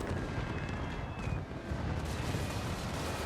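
Crank Gunner units fire in a Total War: Warhammer 2 battle, a dense, continuous rumble of rapid gunfire and distant booms blending into a heavy wall of battlefield noise without a break.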